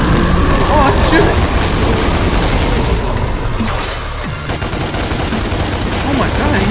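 Gunfire rings out in Devil May Cry during a boss fight against the King, a dense, loud and continuous barrage of shots and action noise that runs without a break.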